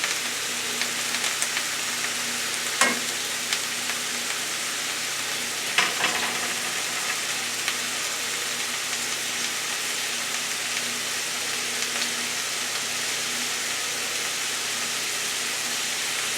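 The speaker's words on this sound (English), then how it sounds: "I'm going to incorporate the peppers and onions into this frying pan." Peppers and onions frying in a frying pan give a steady, broad sizzle for over fifteen seconds, with a few brief clinks and stirring knocks near the start.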